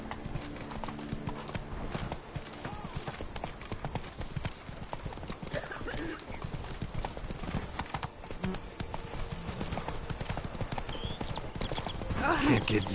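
Roach the horse's hooves clip-clop in The Witcher 3, a brisk rhythmic trot under game ambience and a voice talking, growing louder toward the end.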